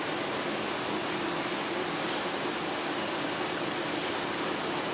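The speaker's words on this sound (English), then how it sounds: "And then it says to slowly pour 2 cups." Water pours steadily into a Primula cold brew coffee maker over ground coffee, a continuous soft splashing hiss that stays even and close throughout with no voices.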